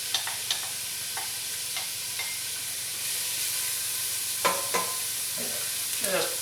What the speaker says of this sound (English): I got a whole yellow onion. And we're going to dump this in here.